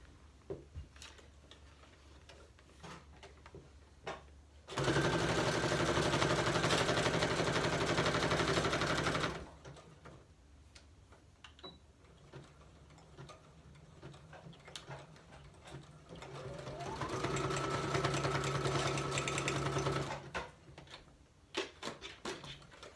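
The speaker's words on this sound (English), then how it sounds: "think I'll just sew it just like that" A sewing machine stitches fabric in two bursts, a steady whirring run of about five seconds, a pause with faint handling, then a longer run that rises in pitch before stopping.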